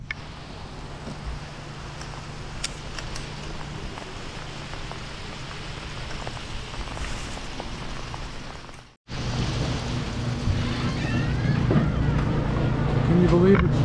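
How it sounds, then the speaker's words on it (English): Mixed snow and hail falling outside an RV park in McCloud, a steady patter of icy pellets on surfaces that continues throughout, briefly cutting out and then returning a little louder. "It's half snow, half hail."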